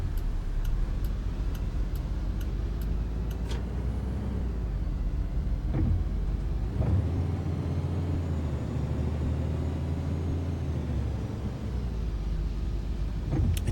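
A city bus idles in the OMSI 2 driving simulator, a steady low engine drone with a faint ticking indicator at the start and a brief surge partway through, with no talk over it.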